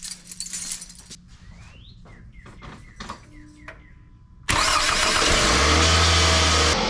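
Faint clicks and a few warning chimes precede a Scion tC engine that cranks and fires abruptly, settling into a loud, steady close-up idle.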